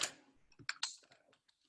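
A few scattered, close key clicks are typed on a computer keyboard to enter a short search word, with brief pauses between the taps.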